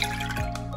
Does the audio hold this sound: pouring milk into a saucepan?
yes